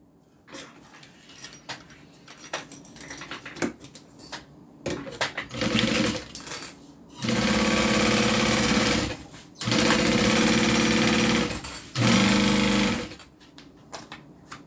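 A sewing machine stitches a bag's interior and exterior onto a zipper. It starts with scattered handling clicks, then runs in several loud, sustained bursts of a few seconds each, separated by brief pauses.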